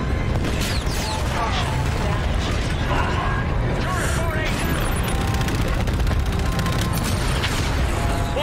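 Sustained heavy gunfire and booming explosions pound an enemy turret in the Call of Duty: Infinite Warfare campaign, a dense continuous barrage with mechanical clatter throughout.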